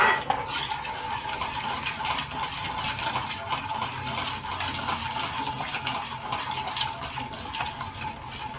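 A spoon stirring thick homemade tomato ketchup in a pan, continuous close scraping and rhythmic metallic clinking against the pan, steady throughout with no voices.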